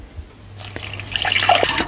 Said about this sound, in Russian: и добавляем сюда воды